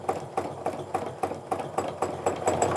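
Steady rhythmic mechanical chatter of a sewing machine quilting an overall feather swirl pattern, with quick stitching pulses that repeat regularly and slightly speed up, fairly quiet and close, with no talking.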